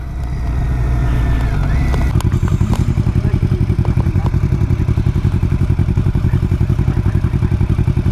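A motorbike roars past on a road in Wales, its engine loud and close with a fast, even throbbing beat that keeps going.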